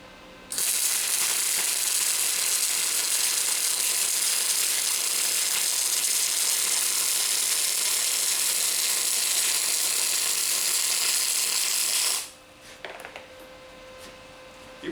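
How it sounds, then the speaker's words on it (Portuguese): A powerful welding machine joins two metal pieces in one loud, steady crackling hiss lasting about twelve seconds, then cuts off abruptly to quiet workshop hum with small clinks. "Vocês podem observar como foi rápido esse processo de solda."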